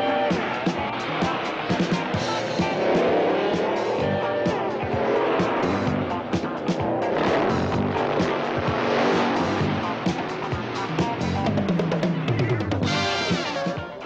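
Racing vehicles at a Bakersfield dirt track, including modified-class Jeeps, Chevy Blazers, buggies and fuel-burning dragsters, roar continuously with loud engine noise and tire squeal, a dense unbroken wall of sound throughout.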